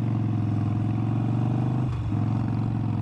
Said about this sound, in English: you should still be able to hear the motorcycle and hear the RPMs